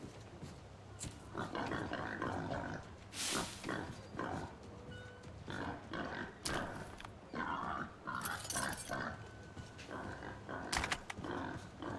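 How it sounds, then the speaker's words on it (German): Pigs in the video game Metro Exodus grunting and squealing in repeated bursts, fairly close, with game background noise and some occasional speech. "Ach, die Schweine leben wieder."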